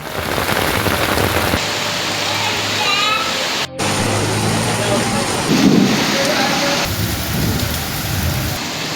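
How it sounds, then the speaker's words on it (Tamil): Steady heavy rain pouring during a storm in Madurai, a loud continuous hiss throughout, with a brief dropout partway and faint rumbles underneath. "மதுரையில் 2வது நாளாக நேற்றும் மழை பெய்தது"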